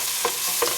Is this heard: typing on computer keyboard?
no